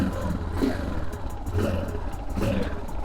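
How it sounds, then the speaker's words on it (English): A 1986 Yamaha XT600 single-cylinder motorcycle engine, still needing choke, runs with a steady low rumble and is blipped about three times in regular surges, close and fairly loud throughout. "I'm just blipping the throttle because I probably should have kept the choke on a little longer"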